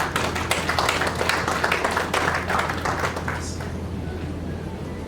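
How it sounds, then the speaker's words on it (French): An audience at a medical congress session claps for a welcome speaker, dense crowd applause that stays loud at first and then tapers off gradually. "Pendant qu'il s'avance, vous pouvez l'applaudir, s'il vous plaît."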